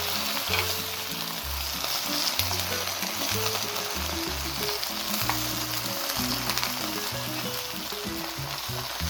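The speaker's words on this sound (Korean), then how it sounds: "간장 2큰술, 그리고 국간장 1큰술, 물 생수 100g을 넣고 조리듯이 고추가 익을 때까지 4분 정도 볶아주시면 돼요." Shishito peppers sizzle and bubble as they stir-fry in soy sauce, soup soy sauce and water, a loud, steady frying hiss with occasional stirring scrapes and no voices.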